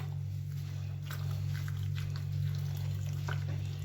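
Two kilos of minced lamb kebab mixture are stirred with onion water, giving soft, wet squelches and scattered clicks close by over a constant low electrical hum.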